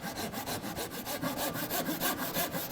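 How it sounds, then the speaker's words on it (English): A hand saw rip-cuts a wooden board with quick, even back-and-forth rasping strokes, close and clear with no voices. "I will lay the saw down into the kerf"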